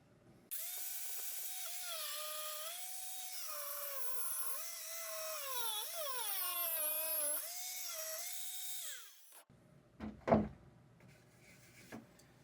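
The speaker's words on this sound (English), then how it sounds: "Let's try an angle grinder." An angle grinder running off a Jackery Explorer 1000 portable power station grinds into wood: a loud, steady, high motor whine for about nine seconds, its pitch sagging and wavering as the disc bites under load, then cutting out and leaving a few clunks.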